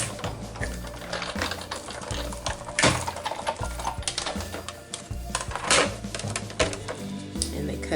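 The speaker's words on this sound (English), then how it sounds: "Just going to run it through." Die cutting machine feeding A and B plates with a Tim Holtz die and fabric through its rollers, producing a close, rapid mechanical clatter and rhythmic ratcheting thumps that continue steadily throughout.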